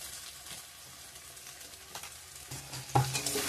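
Chicken pieces frying with ground cumin, coriander and chili powder while being stirred, a steady close sizzle with scraping stirs that grow louder toward the end.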